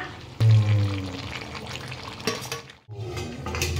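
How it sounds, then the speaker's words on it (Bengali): Meat is sautéed (kosha) in a pan: a steady sizzle with scraping spoon strokes and clinks against the metal, close and fairly loud, with a short drop in sound before the frying resumes. "হ্যাঁ মাংসটা কষাচ্ছি এই গরমের মধ্যে না।"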